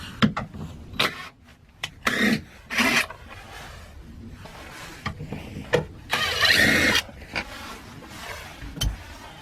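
Ratcheting and turning a socket on the 10mm tail light bolts of a Dodge Caravan, producing short bursts of metallic rasping separated by quiet pauses.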